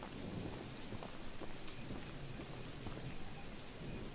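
Heavy rain hisses continuously in a thunderstorm in the video game Choo-Choo Charles, with a low rumbling undertone and scattered crackles, steady and fairly faint throughout.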